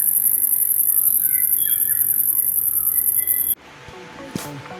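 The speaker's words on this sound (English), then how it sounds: "a bird was making like cartoonish bird sounds, like just flew into that bush there" Short, quirky bird calls ring out over a steady insect drone, a few separate chirps and whistles at moderate distance before the background abruptly drops away.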